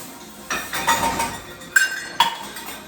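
Fork stirring rice in a cooking pot on a stove, a few sharp metallic clinks and scrapes spaced irregularly over a quiet background, close and fairly loud, with no talking.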